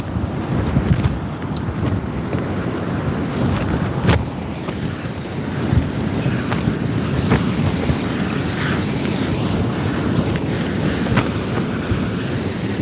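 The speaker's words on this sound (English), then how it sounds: "that wind is savage." Strong wind roars steadily at sea around a fishing kayak, with the wash of waves and gusty buffeting across the microphone the whole time, loud and unbroken, with no voices.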